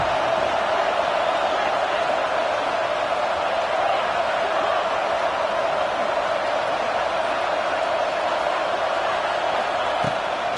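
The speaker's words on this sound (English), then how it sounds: "This Auburn crowd trying to conjure up a little magic here on 3rd down" Auburn football crowd in the stadium on 3rd down against Syracuse, a dense sustained roar of cheering that holds steady and loud throughout.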